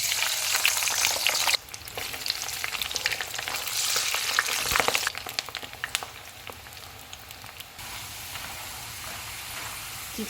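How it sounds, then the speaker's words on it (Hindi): Frozen chips dropped into hot oil and deep frying, a dense steady sizzle and bubbling crackle that briefly dips and then carries on at an even level, close by with no talk. "ऑयल गर्म हो गया, इसमें चिप्स डाल देते हैं। इनको हम क्रिस्पी होने तक फ्राई करेंगे।"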